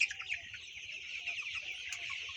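Sonali-colour chickens, 33 days old, clucking steadily as a flock, with soft overlapping clucks and chirps close by and no talk.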